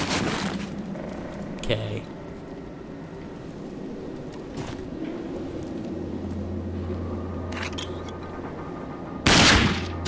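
Gunfire from a sniper pistol in the first-person shooter Rage, several sharp shots and bursts over a dense game backdrop of rumbling and clatter, with a loud crack near the end; a voice speaks briefly.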